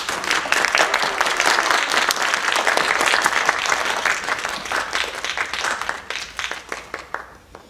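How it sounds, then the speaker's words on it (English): Warm audience applause at a youth empowerment foundation's annual awards ceremony, a dense steady clapping from a full room that holds strong for several seconds, then thins and trails off toward the end. "Please give them another round of warm applause"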